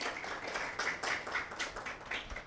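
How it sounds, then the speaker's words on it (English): Applause from a small audience at a university honor society induction ceremony, a steady patter of many hands clapping at moderate distance, fairly soft and continuous with no voices over it. "Round of applause."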